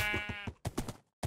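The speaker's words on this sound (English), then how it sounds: "Okay, here's a sheep." Short pulsed bleats from a sheep in a real-life Minecraft-style animation, several quick wavering cries in a row, close and clear with brief gaps of silence.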